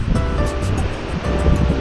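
Sea waves at high tide on the shore at Al Shuqaiq, Jizan, Saudi Arabia wash in loudly and close, with a steady surf roar and wind buffeting the microphone.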